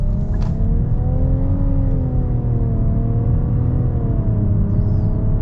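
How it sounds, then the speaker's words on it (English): A 2022 Nissan Rogue's new turbocharged engine pulls hard in sport mode, a steady, loud rising drone with shifting harmonic tones held throughout, no voices over it. "I've got the Rogue now in the sport mode so that we can get our hardcore acceleration here with this new turbocharged engine."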